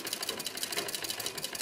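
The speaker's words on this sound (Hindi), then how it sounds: "इसको दबाएंगे तो हमारा बॉबिन में धागा भरना शुरू हो जाएगा। This is the bobbin winder." Sewing machine bobbin winder spinning to fill a bobbin with thread, a steady fast whirring buzz, close and fairly loud, running alone without speech.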